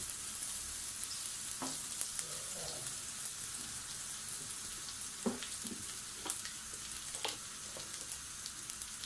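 Onion frying on medium heat in a pan, a constant bright hiss and crackle, close and even, with a few faint scrapes from stirring.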